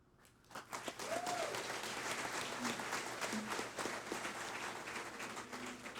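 An awards ceremony audience breaks into sustained applause, a dense wash of many hands clapping that swells quickly and holds steady, with a faint tone rising briefly early on.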